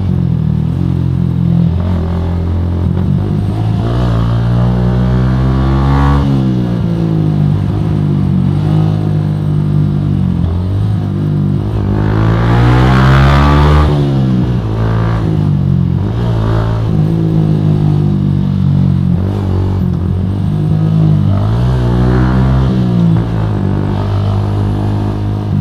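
A Yamaha M-Slaz motorcycle ridden hard at high speed, its loud engine climbing and dropping through repeated revving sweeps as it accelerates and shifts, with heavy wind rush throughout.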